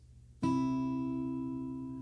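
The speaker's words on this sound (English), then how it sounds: "We're going to pick those two strings together at the same time." Two guitar strings picked together once, ringing out clearly and sustaining as they slowly fade, with no talking.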